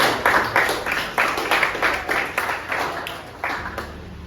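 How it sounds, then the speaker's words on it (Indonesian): An audience claps for group 1 at a classroom performance assessment, a loose run of bright, moderately loud claps that thins out toward the end. "Tepuk tangan untuk kelompok 1."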